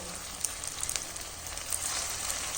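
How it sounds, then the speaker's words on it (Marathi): Leftover rice breakfast snack frying in a little oil in a pan over medium heat, a steady bright sizzle with scattered small pops and crackles, close and continuous. "तर मध्यम गॅसवरती चांगलं लालसर होईपर्यंत आपण याला तळून घेणार आहोत"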